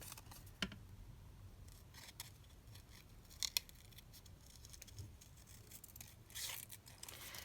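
Scissors snip through paper for a staggered pocket notebook in a handful of faint, sharp, close cuts separated by quiet pauses.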